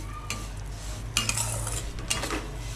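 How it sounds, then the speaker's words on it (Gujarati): Semolina being dry-roasted in a pan for sheera, a sweet offering dish, with a spoon scraping and clinking against the metal pan in a few short bursts over a low steady hum. "આ રીતે આપણે સૂજી શેકી લેવાની આછો ગુલાબી થાય ત્યાં સુધી"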